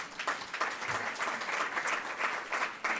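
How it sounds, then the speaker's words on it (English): Audience applause at a live talk show taping, a steady burst of many hands clapping that holds for several seconds at moderate loudness, close to the listener. "So another round of applause for that, please."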